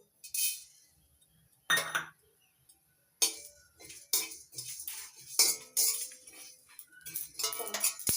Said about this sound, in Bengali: নেড়ে চেড়ে ভেজে নিচ্ছি